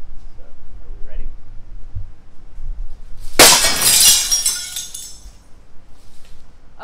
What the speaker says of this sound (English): So you actually went through both pieces of glass rather easily.